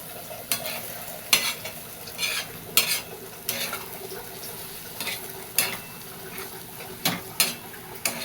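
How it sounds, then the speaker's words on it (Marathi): Egg bhurji frying in a pan as a spatula stirs and turns it over, a steady sizzle broken by about a dozen sharp scraping strokes at an irregular pace, close and clear with no talking. "मस्त चांगलं परतायचं ह्याला आलटून पालटून आलटून पालटून खालीवर खालीवर करून घ्यायचं"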